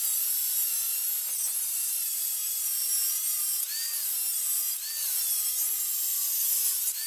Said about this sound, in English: Now we just have 6 more holes to drill